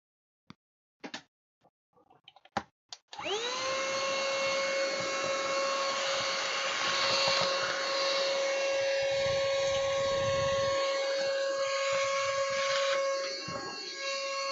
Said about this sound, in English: Let's get that vacuum cleaner out again.